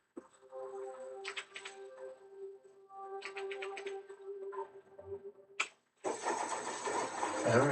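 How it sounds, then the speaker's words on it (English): Car engine in the Project Zomboid video game cranks and catches in repeated attempts, sputtering briefly before conking out despite half a tank, then a burst of broadband engine roar near the end. "I don't understand why our engine's still conking out"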